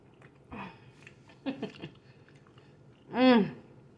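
Close, wet chewing and biting on smothered turkey wings in a soul food home kitchen, a few soft bites then one louder squishy mouthful, with brief breathy noises between.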